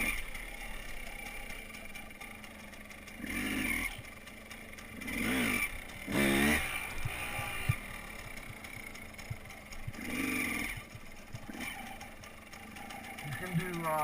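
A motorcycle engine fitted with a Rekluse automatic clutch idles quietly and rises in a few short revving swells as the clutch takes up, with someone talking over it throughout.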